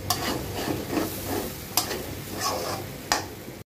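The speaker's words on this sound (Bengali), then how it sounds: "এভাবে অনবরত নাড়তে হবে" Chickpeas for boot bhuna are stirred in a pan over a constant low sizzle. The spatula scrapes and taps against the metal in irregular strokes, with sharp clinks at intervals and no one speaking.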